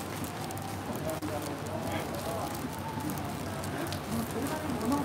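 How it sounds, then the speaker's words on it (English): Heavy rain hisses in a dense, steady wash across the whole stretch, with faint indistinct voices beneath it. "the rain's coming down hard now"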